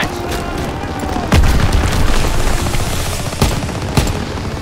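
Grenade blasts in Call of Duty WWII combat on the Rhine: a few sharp booms, one strong burst followed by two lighter thumps, over a steady rumbling battle din.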